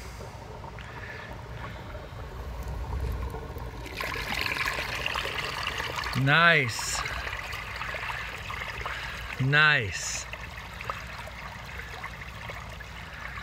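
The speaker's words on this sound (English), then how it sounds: "So the sink was filled. I can hear it coming. It's a rumbling." A filled sink draining out, with a steady rumbling trickle of water throughout and two brief louder gurgling swells; a voice speaks briefly over it.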